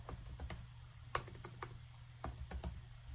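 A name typed on a Chromebook keyboard, a quick run of light, close key clicks in an uneven rhythm with a few brief pauses, heard alone.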